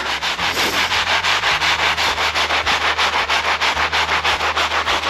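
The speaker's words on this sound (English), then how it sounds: "So let me try to scrub this one a little bit more." Rust is scrubbed off the legs of a car lift in fast, steady back-and-forth strokes, a loud, close, continuous rasping rhythm over a low constant hum, with no voices.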